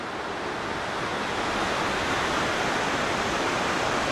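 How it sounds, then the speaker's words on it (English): Rough ocean surf on a windswept beach roars as a dense, continuous wash of breaking waves that swells slightly louder, with no voices. "The ocean's still pretty savage."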